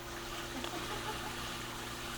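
A MasterSpas Twilight 7.2 hot tub runs its second pump, the jets producing a steady, quiet rush and trickle of churning water at low level with no talk.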